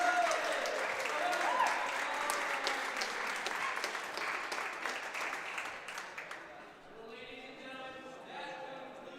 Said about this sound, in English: Ladies and gentlemen, one more round of applause for Team